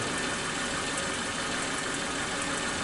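A Suzuki Katana engine idles with a misfiring spark plug as the distributor is turned. A steady, even mechanical hum with a faint rattle, heard up close and alone.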